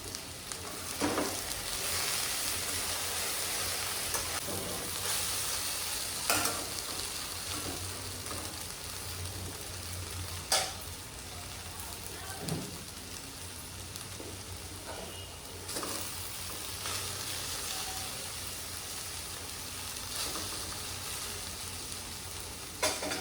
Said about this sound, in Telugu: కాస్త ఆ జిగురు తగ్గే వరకు బాగానే కలుపుతూ ఉండాలి